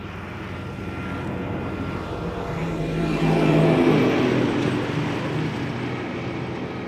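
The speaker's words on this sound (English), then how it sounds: "This is KLM flight 1406 arriving from Paris-Charles de Gaulle, 737-800." A KLM Boeing 737-800 airliner arriving from Paris-Charles de Gaulle passes close on approach to the Polderbaan runway at Amsterdam Schiphol, a loud steady engine roar swelling to a peak midway and then easing off.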